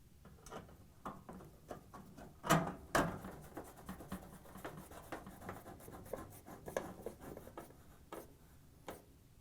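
Screws being driven in to secure the front panel of an LG/Kenmore washer, a close series of small scraping, clicking and squeaking turns with a few louder knocks, no talk.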